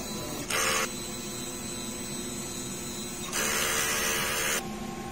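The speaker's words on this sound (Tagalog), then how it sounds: "Tamang pag head clean, pindutin lang natin ang ating clean, normal" A DTF printer runs its head cleaning cycle at close range, with a steady mechanical hum and two bursts of loud hissing pump noise, one short and one longer, and no one speaking.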